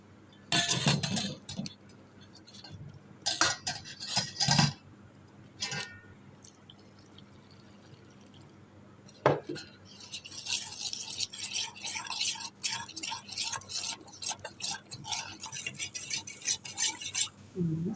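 Flour (maida) is stirred into a thin paste with a spoon in a bowl, making close, intermittent clinking and scraping in short bursts separated by quiet gaps, then a longer spell of steady stirring.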